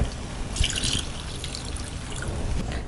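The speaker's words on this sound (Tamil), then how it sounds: "தண்ணி ஊற்றி மிக்ஸ் பண்ணிக்கலாம்" Water trickles and drips as it is poured into cooked moong dal for a Pongal festival feast, a steady close liquid sound with a brief splashy burst near the start.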